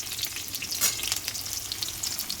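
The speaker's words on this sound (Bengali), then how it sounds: "এই যে ফুলকপি আলু ভাজা করব" Cauliflower and potato frying in a pan without turmeric, a bright continuous sizzle with crackling pops, close and steady, no talking.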